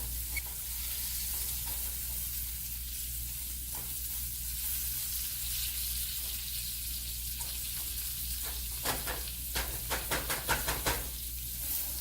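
Butter sizzles and hisses steadily in a pan, with soft crackles and a few louder spattering pops near the end over a low electrical hum.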